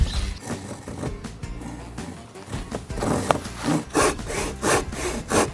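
A hand saw rasps back and forth through scrap wood for a bench inside an abandoned building, with uneven strokes early on that settle into a louder, regular rhythm near the end.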